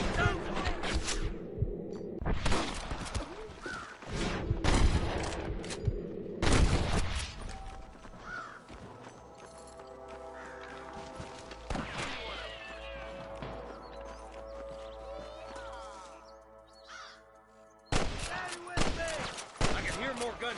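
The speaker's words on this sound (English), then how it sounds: "I can hear more gunshots" Gunfire in the Red Dead Redemption video game, with sharp loud shots in irregular clusters, quieter stretches carrying game sounds and music, and a renewed burst near the end.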